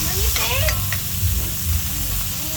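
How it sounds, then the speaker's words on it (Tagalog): Tomatoes crushed and stirred in a frying pan for pakbet, with a steady sizzle, spoon scrapes and clinks against the pan, and a voice speaking at times over the cooking. "Dudurugin po natin yung kamatis natin maigi"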